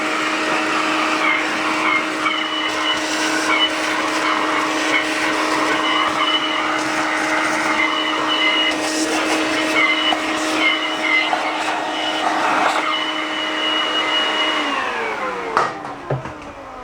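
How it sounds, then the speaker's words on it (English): A shop vac runs continuously beside a 1972 Honda SL 125 motorcycle, a loud steady motor whine with a constant pitch for about fifteen seconds before it winds down and cuts off near the end, with no talking. "this will be one of the times that I will use the shop vac"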